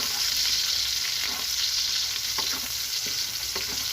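Onion frying in a pan for a kangkong dish, a steady close sizzle with scattered crackles and occasional stirring scrapes, no voices.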